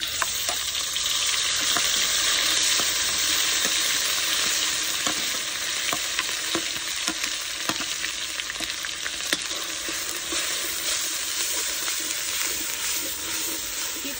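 An onion, tomato, ginger and garlic paste sizzles and crackles steadily in hot oil over cumin seeds, cooking for a Bombay duck curry. The frying hiss is close and continuous, with no voices.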